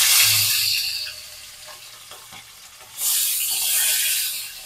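Hilsa fish tails fry in hot oil in a wok with a close, loud sizzling hiss. The hiss fades back for a moment and then surges again as more pieces go in.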